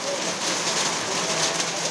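Dense, continuous patter of small hard pellets striking surfaces, a steady hiss-like clatter with no voices.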